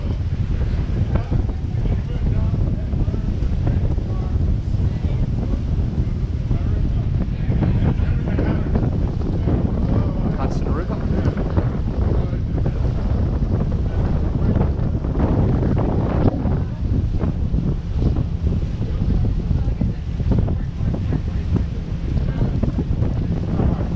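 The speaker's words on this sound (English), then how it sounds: "The ferry ride is free." Aboard the Staten Island Ferry on an early spring morning, a strong, steady roar of wind buffets the microphone over engine rumble and water for the whole ride.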